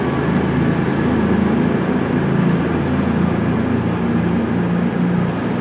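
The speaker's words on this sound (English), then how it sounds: "departing out now is the 1547 cross-country service to Manchester Piccadilly, with the unit on the service being 220002" A CrossCountry unit 220002 pulls out of Bournemouth on the Manchester Piccadilly service, a loud continuous diesel rumble and rolling hum held steady at close range, with no talking.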